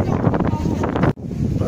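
Steady wind buffeting a microphone out in the mountains of Turkey, a loud, broad rushing roar that breaks off for a split second and then returns.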